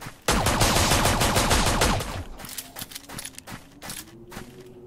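Automatic gunfire in the battle royale video game Until None Remain: a loud, dense sustained burst of rapid shots for about two seconds, then scattered single shots and lighter clatter.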